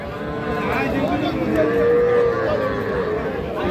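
Young bull calves at a cattle market, mooing loudly in a drawn-out low call over busy crowd chatter and nearby talk.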